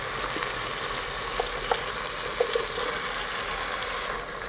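Green beans frying in a home pan, a steady broadband sizzle at moderate level with a few soft clicks and pops along the way, no voices.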